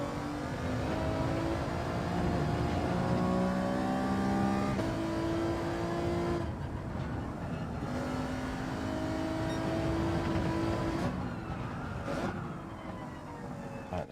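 A race car engine in Gran Turismo 7 drones steadily, with its pitch rising and falling across gear changes and sagging where it bogs down, close and continuous with no voices.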